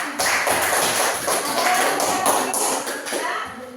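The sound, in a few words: classroom applause for a group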